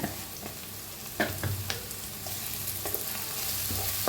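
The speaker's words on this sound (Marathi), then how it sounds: "हळदीला बी भाजून घेऊया तेलात" Half a spoon of turmeric roasts in hot oil with a soft continuous sizzle, broken by a few quick stirring scrapes of a spoon against the pan.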